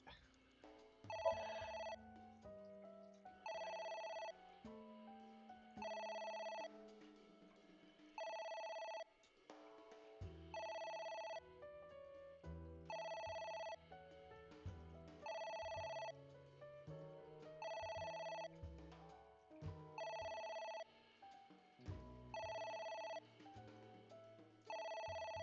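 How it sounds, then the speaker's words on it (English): A phone ringtone in the video game AI: The Somnium Files rings repeatedly in regular bursts of bright tones over a low musical backing, continuing steadily throughout. "Please stop ringing. That noise is so annoying."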